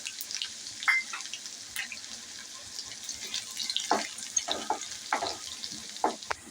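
Garlic cloves, crushed or finely chopped, frying in a pan, a soft steady sizzle with scattered scraping and stirring clicks close by, no voices.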